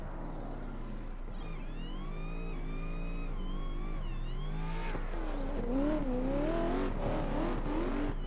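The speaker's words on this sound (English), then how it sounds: "That supercharger just whining." In a driving video game, a supercharged car's engine revs with a loud, rising supercharger whine that climbs and dips through gear changes, close and continuous with no talking.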